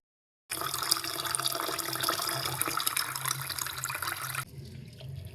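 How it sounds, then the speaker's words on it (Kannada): Basmati rice is washed in water, a steady close splashing and swishing of water and grains that cuts off abruptly near the end, leaving faint trickling. "ಸೊ ನೀಟಾಗಿ 4ರಿಂದ 5 ಸರಿ ಇದನ್ನ ವಾಶ್ ಮಾಡ್ಕೊಂಬಿಡೋಣ."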